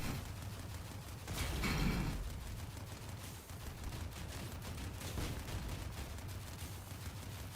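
Gunfire in the vehicle combat game Mad Chase VS Incinerators, a dense, continuous rattle of shots with a louder burst near the start, steady and fairly distant, with no talking.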